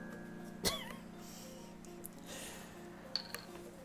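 Lucifer, a pet tiger in a video game, gives one short, faint feline growl-like vocal over a quiet background hum, followed by a few soft, scattered small sounds.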